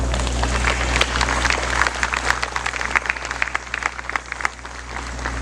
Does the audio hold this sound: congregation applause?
yes